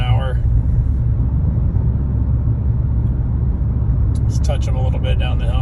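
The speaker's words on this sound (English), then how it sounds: "Let's go ahead and drive along 35, maybe 40 miles an hour." A car cruises at about 35 to 40 mph while its new brake pads are being broken in, giving a steady low road and engine rumble heard from inside the cabin, with a brief voice speaking over it.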